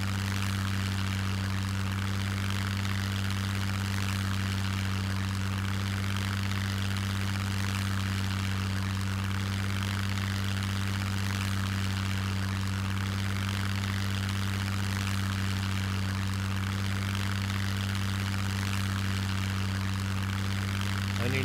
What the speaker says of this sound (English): The airplane doesn't have the miss in the motor anymore. Thank God they changed that engine sound.